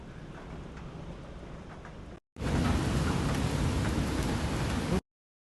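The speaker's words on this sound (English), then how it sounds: "There's a lot of rain out the back there." Heavy rain falls at Burleigh Heads beach as a dense, steady hiss that cuts briefly, then returns louder and fuller.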